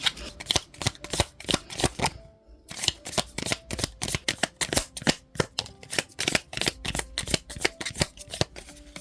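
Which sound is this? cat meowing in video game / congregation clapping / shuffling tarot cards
shuffling tarot cards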